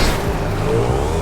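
A car in the video game GTA 5 revs and skids in a crash, a loud engine roar with squealing tires sweeping through a short burst, with no voices over it.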